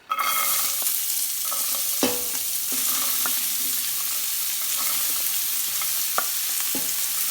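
Chopped vegetables sizzle steadily in hot oil in a pot over medium heat, with occasional scrapes and knocks of a spoon stirring them, loud and close throughout.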